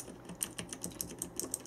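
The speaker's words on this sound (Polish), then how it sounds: "Klawiatura z fantastycznym wielostrefowym podświetleniem, wyposażona w zielone przełączniki firmy Razer. Przy okazji możemy sobie ich posłuchać" Rapid, even keystrokes clatter on a Razer BlackWidow Ultimate Chroma mechanical keyboard with green switches, each crisp click close and moderately quiet, with no voices.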